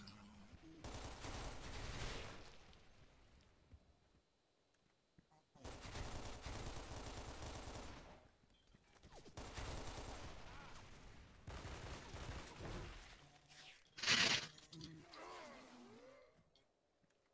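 Bursts of automatic gunfire from the shooter video game S.K.I.L.L. Force 2, coming in several loud sustained volleys separated by short pauses, with one sharp louder blast near the end.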